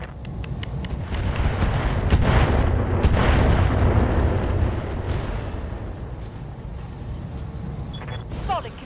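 Mech weapons fire on a target in the RogueTech game, with heavy booming bursts that roll continuously through the clip and a loud low rumble that swells midway and then eases.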